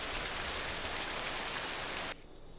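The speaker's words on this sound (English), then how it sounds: "hefty rain sound there" Heavy rain in the game EverQuest pours down as a loud, dense, steady hiss, then drops off abruptly to a lighter, quieter patter near the end.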